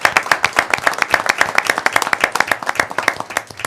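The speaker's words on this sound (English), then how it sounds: "let's give him a applause." Close, brisk applause at a parish police jury meeting, with distinct individual hand claps forming a rapid, steady patter from a small audience and no talking over it.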